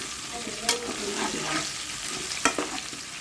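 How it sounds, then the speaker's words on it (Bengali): Potatoes fry in oil with a soft, even sizzle, broken by a couple of sharp utensil clicks against the pan. "এই তো আলুগুলো আমি ভালোভাবে ভেজে নিচ্ছি তেলে।"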